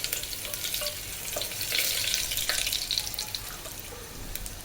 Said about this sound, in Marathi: तीन ते चार पाकळ्या लसूण बारीक चिरून घेतलेला आहे तोही आपण तेलामध्ये भाजून घेऊया